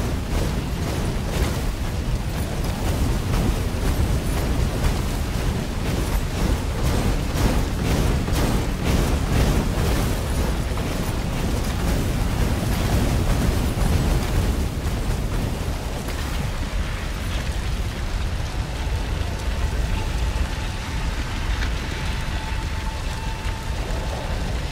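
Cannon trap explosions in the action game Stories: The Path of Destinies: a dense, continuous barrage of booming blasts and crackling debris for most of the span, easing into a lower rumble with a faint tone near the end.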